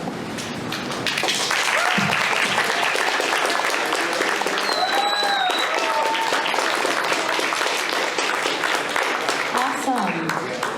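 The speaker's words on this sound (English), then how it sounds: "Can we give another round of applause" An audience applauds after a student debate at a university event, sustained dense clapping across the whole stretch, with a few whistles and cheers rising over it.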